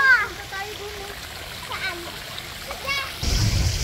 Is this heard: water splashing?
yes